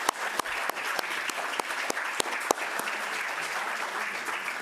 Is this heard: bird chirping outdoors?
no